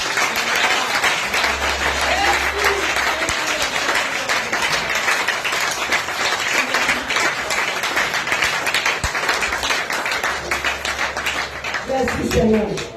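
A church congregation at a Sunday service applauds continuously, a dense sustained clapping that holds steady throughout, with voices mixed in beneath it.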